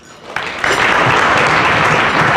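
Audience applause at an African Union high-level dialogue conference, starting sparse, then swelling at once into dense, steady clapping that fills the room and holds to the end.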